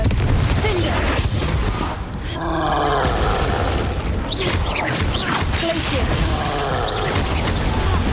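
A Confringo fire spell explosion in the video game Hogwarts Legacy, heard as a loud booming burst over a dense, roaring game soundscape with rumbling effects throughout.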